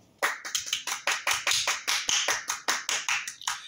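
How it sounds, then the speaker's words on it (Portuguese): A small group of children clapping for a classmate during a colouring activity, a quick run of about fifteen close, crisp, fairly loud claps in a steady rhythm with no talking. "palmas para ele"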